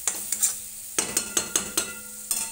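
Chicken masala roasting in oil in a pan, stirred in quick rhythmic scrapes of a spatula against metal, about a dozen sharp close strokes over a light sizzle, no talk.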